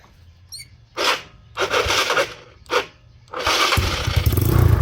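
A modified 213cc motorcycle engine is cranked in several short bursts, then catches and settles into a loud, rough exhaust idle that keeps building, the noise coming mostly from the exhaust pipe.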